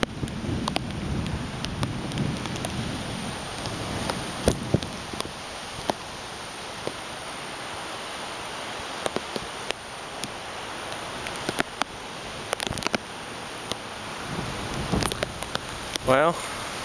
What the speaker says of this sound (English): eventually the rain will pick up. Like right now. Maybe that's just the wind blowing it against me.